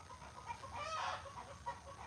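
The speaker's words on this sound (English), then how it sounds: "That's a hen." A farm hen clucks repeatedly after laying an egg, a faint series of rhythmic clucks rising to a brief louder cackle, heard at a distance over a low background hum.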